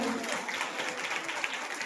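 Audience applause welcoming children after a Jain religious play, a steady dense wash of clapping filling the whole short stretch at moderate level.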